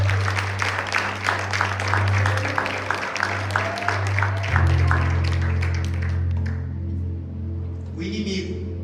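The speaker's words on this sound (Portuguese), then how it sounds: "Dê uma salva de palmas." A church congregation claps together in a dense, sustained wash of applause over a steady hum and a faint musical drone, easing off toward the end.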